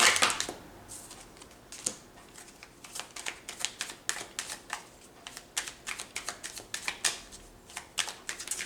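Tarot cards shuffled and drawn in a reading for Sagittarius, a run of crisp, close riffling slaps and flicks in uneven bursts, with no voice over them.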